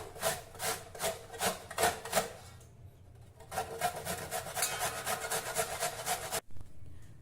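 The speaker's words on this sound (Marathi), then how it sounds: "सर्वप्रथम किसणीवर आपण हे आवळे किसून घेऊया" Indian gooseberries (amla) are rubbed against a kitchen grater in fast rhythmic rasping strokes, close and fairly quiet, with a brief pause midway and a sudden stop near the end.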